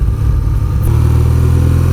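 A BMW R12 cruiser's air-cooled horizontal boxer engine runs loud and close with a steady deep throb, the pitch shifting slightly partway through while the bike is ridden, with no talk.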